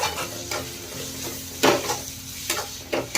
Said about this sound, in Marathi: आता धुतलेले बोंबील आणि तेलामध्ये परत आता ह्याला एक मिनटं चांगलं परतायचंय